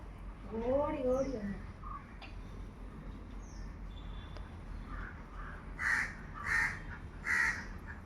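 A crow caws several times in close succession, loud and harsh, after some brief chirps, over a low background rumble.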